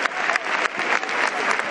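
Steady applause fills the air around a Holy Week brotherhood band in dress uniform during a Madrugada procession in Huelva, a dense, continuous clapping from a crowd heard close and alone.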